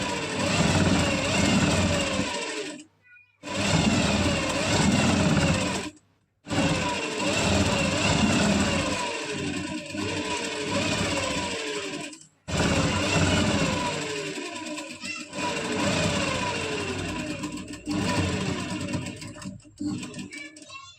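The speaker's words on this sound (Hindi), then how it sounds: "अब हम यहाँ बॉटम में 1/2 इंच मार्जिन छोड़ते हुए इसमें सिलाई लगा देंगे।" A sewing machine hems the bottom of a fabric palazzo in long, loud runs broken by a few brief stops, with a voice talking over parts of it.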